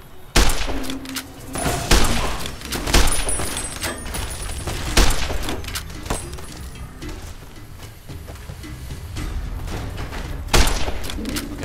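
Gunfire in Fallout: New Vegas, with sharp shots at irregular intervals, several loud close cracks separated by pauses, over a noisy ambient background.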